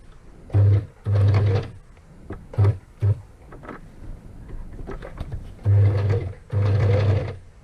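A sewing machine runs straight stitches on boho fabric tags in several short bursts of rapid mechanical whirring, separated by quieter pauses with light handling noises, close and loud.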